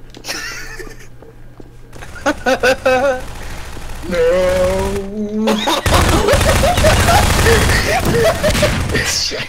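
Gunfire in the video game Garry's Mod Prop Hunt, a loud sustained barrage of shots and bursts with people talking and laughing over it.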